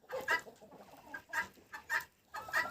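Several short clucking calls from turkeys nearby, coming in irregular bursts with brief quiet gaps between them.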